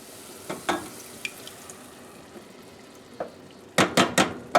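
Tomatoes go into a simmering, wine-reduced pasta sauce in a pan, with scattered clinks and scrapes, then a cluster of loud metallic knocks and splashy impacts near the end over a soft sizzle, with no talking.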